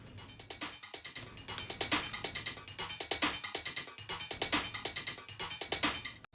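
Metallic percussion from the DM307 sample library, rapid clanking, ringing hits in a steady pulsing rhythm that builds slightly in loudness, bright and dense, with no voices.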